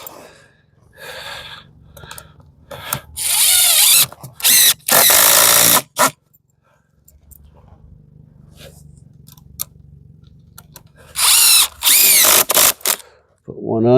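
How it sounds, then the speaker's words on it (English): Power drill driving screws into a wooden treehouse platform, several loud bursts of whirring in separate runs, with quiet handling and brief talk between them. "Now let me get a couple extra screws in here."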